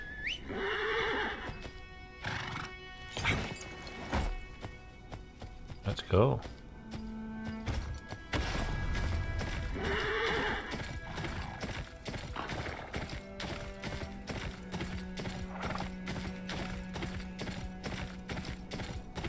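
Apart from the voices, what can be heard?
horse neighing and hooves, video game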